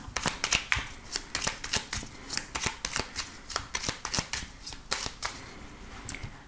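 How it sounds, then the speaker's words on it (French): Oracle cards being shuffled by hand for a divination reading, a quick run of crisp riffling snaps and rustles that comes in bursts, close and clear, with no talking. "on va voir aussi les messages avec l'oracle de Béline"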